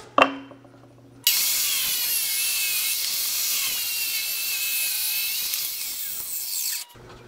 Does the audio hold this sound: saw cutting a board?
yes